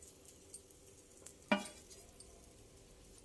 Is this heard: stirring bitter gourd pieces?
yes